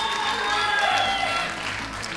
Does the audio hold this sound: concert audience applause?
yes